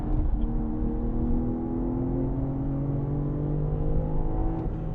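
A BMW M car's engine on Sonoma Raceway's track drones loudly from inside the cabin, its pitch climbing steadily as the throttle is raised, with no talk.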